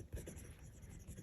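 A pen writing on a sticky note in a planner: soft, close scratching strokes in a quick, uneven rhythm, faint and alone.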